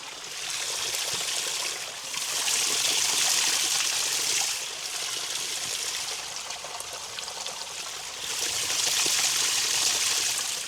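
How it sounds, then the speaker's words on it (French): Forest stream in Taveyanne, Switzerland, flowing with a steady rushing gurgle of water that swells and eases in broad waves, close and continuous with no voices. "Alors aujourd'hui, petit ASMR d'eau. Alors écoutez-moi cette magnifique eau."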